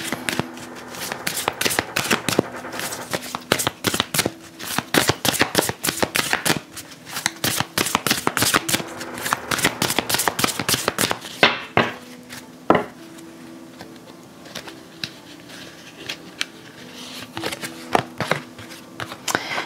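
Oracle cards are shuffled and handled up close in rapid riffling bursts of crisp flicks, then quieter slower card handling with occasional taps.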